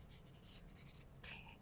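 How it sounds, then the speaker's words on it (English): A felt-tip marker rubbed back and forth across the side of a shape, making a close, steady scratchy squeak in short continuous strokes with a brief pause near the end. "So I'll take the marker, and I'm going to use this as if I was going to color it on the side of it"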